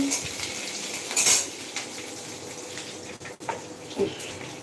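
A pot of chana dal cooking while a metal spoon clinks and scrapes against the pot, with a few sharp utensil knocks over a soft bubbling background.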